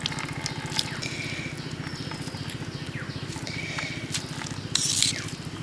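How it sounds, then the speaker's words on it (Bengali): Water drips and trickles as it is pressed and strained out of grated raw papaya with a spoon, a steady rhythmic dribbling with a brief louder splash near the end. "আর বাকি যে জলটা রয়েছে এইভাবে ছেঁকে নেব"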